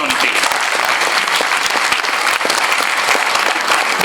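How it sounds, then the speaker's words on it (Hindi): A convocation ceremony audience applauds loudly and continuously, a dense wash of many hands clapping at close range throughout. "इनके लिए जोरदार तालियां होनी चाहिए"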